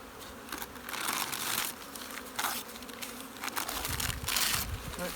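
Honey bees buzzing around a hive being boosted with the newspaper method, a close, fluctuating swarm-like drone that swells and fades in waves, with some crinkling of paper mixed in.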